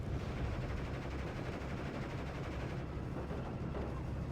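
Steady, dense battlefield din of mortar impacts and gunfire in the WWII strategy game Steel Division 44, a continuous loud wash of booms and crackling shots with no clear gaps.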